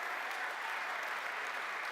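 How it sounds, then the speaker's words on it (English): Audience applause at a technology event for a winning team, a steady dense wash of many hands clapping throughout, loud and continuous with no pauses. "Big round of applause."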